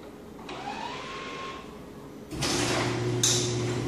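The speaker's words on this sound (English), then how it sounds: "opening the garage door by itself" A garage door opening automatically as a Tesla Model 3 is summoned out: a steady mechanical motor whir with a rising whine, then a louder rushing, rattling hum as the door travels, fairly close, with no talking.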